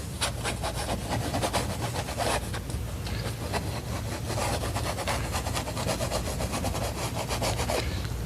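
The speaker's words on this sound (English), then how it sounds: "And it takes a lot of this blending and rubbing." Steady, close scraping and rubbing of a painting knife blending oil paint across canvas, a continuous textured swish with rhythmic strokes running throughout and no voices.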